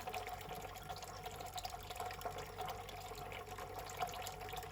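Water pours over jewellery and through its setting during rinsing, a soft, steady trickling and splashing heard faintly and close.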